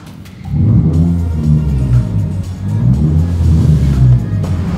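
A Honda Brio Type S engine revs steadily, heard muffled from inside the closed cabin, with a low rumbling drone that rises and dips over several seconds.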